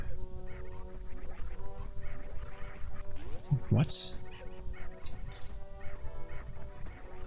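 A person squawks in imitation of a bird during a Super Metroid game stream: one brief, shrill burst rising over steady game music, with a voice talking nearby.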